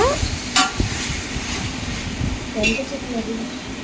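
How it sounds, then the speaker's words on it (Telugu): A ladle stirs a chicken mixture for dum biryani in a pot, with soft scraping and a faint sizzle close by while someone speaks over it. "ఈ మిశ్రమంలో కలిపి చక్కగా అంతా కలిసేలాగా ఒకసారి గరిటెతో తిప్పుకొని"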